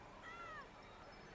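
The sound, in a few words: cat meowing in video game Genshin Impact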